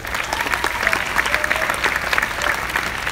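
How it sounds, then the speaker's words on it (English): Round of applause from a large keynote audience at VidCon 2017, a dense steady crackle of many hands clapping, moderately loud and unbroken, with no talk over it. "Let's give them all a round of applause again"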